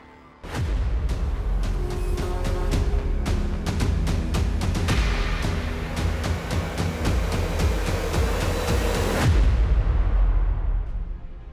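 Fireworks set off in celebration at a bungalow in Bhopal: a dense, loud, continuous string of rapid firecracker bangs crackling for about nine seconds before stopping abruptly, with no voices.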